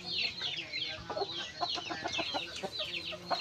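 Gamefowl roosters at a breeder's farm in Mawab, Davao de Oro, cluck continuously in a busy, overlapping chorus of close, sharp calls, with other birds and faint background noise.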